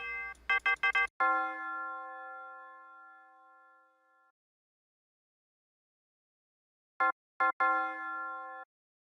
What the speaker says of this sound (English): I added this bell from my own drum kit here.